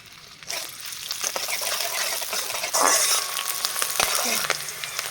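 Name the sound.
sliced onions frying in hot oil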